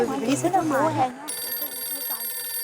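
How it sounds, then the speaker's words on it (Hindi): A voice speaks briefly, then a telephone starts ringing steadily with a bright, electronic trill that continues to the end. "अय्यर भाई का फोन"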